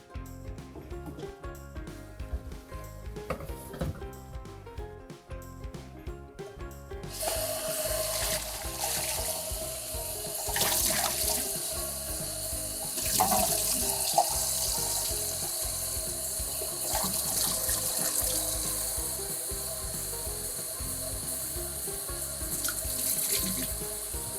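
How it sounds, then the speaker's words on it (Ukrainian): Tap water runs steadily into a sink, swelling louder midway with splashing as vegetables and greens are rinsed beneath the stream. "всі овочі треба ретельно помити. І зелень також."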